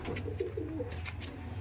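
Pigeons bred for winter flying, giving soft low throaty coos in short repeated phrases, close by and fairly quiet over a steady low background hum.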